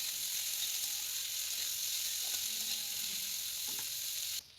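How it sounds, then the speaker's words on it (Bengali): Chopped onion fries with whole spices in oil, an even, close sizzle running throughout with faint occasional stirring clicks, cutting off abruptly at the end. "কুচানো পেঁয়াজ দিয়ে ভালো করে সব কটাকে ভাজা ভাজা করে নেব।"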